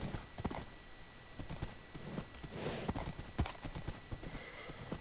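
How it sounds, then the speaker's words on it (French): Hooves clip-clop steadily as a horse gallops in the video game Le Seigneur des phénix, with a neigh in the mix and a voice speaking briefly at low level. "Allez, mon petit cheval."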